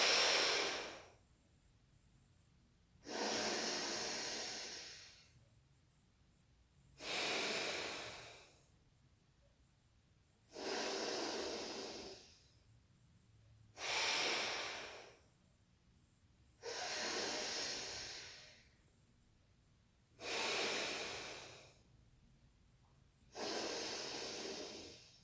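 Alternate nostril breathing exercise: slow, airy inhales and exhales through one nostril at a time, eight even breaths spaced a few seconds apart with quiet pauses between, close and alone.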